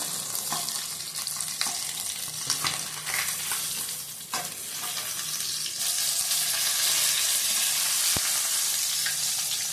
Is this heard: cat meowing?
no